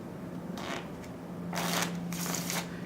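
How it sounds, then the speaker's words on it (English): A regular deck of playing cards shuffled once during a close-up magic show, heard as several close, crisp riffling bursts separated by brief pauses. "I'll give it 1 shuffle."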